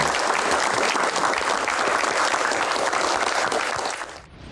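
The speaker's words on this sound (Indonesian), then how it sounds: "Tepuk tangan dulu untuk bos pertama." Dense, steady applause from an audience at a business and politics talk event honouring the first boss, holding loud and even for about four seconds before fading at the end.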